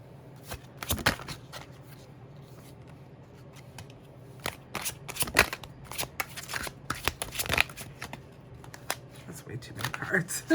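Tarot cards shuffled by hand in repeated quick riffling bursts, crisp and close, with short pauses between bursts and a voice speaking quietly at times.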